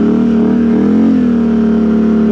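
Can-Am Renegade 1000 XMR ATV with RJWC dual slip-on exhausts, a loud close engine note rising briefly in a rev then settling into a steady throaty drone, with no talk.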